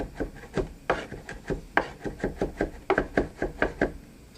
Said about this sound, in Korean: 마늘 썰어 두었습니다